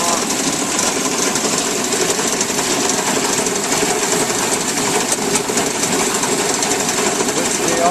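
A Goldfield Goldtron gold recovery table runs with its auger metering feed into a sluice box and screen, giving a loud, steady mechanical rattle and hum with spraying water, continuous throughout.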